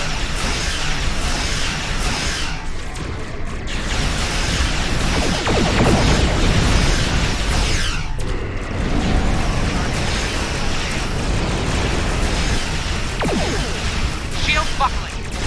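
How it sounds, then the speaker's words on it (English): Starship weapons fire and explosions in Star Trek Online form a continuous, loud barrage of booming blasts and crashing impacts with a deep rumble, and voices talk over the battle throughout. "All ships, fire to disable!"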